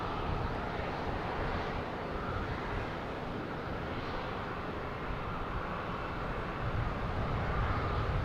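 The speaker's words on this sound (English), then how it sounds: "That's Emirates coming in from Dubai" Emirates airliner inbound from Dubai on approach to Boston Logan, a steady broadband jet roar that holds loud and even throughout, mixed with wind noise on the microphone.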